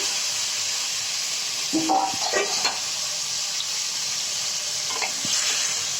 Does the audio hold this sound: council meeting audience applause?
no